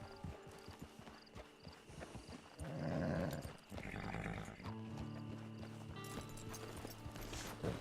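Horse hooves in a video game, soft clopping under a busy game soundscape with a louder rushing burst in the middle and sustained tonal music toward the end.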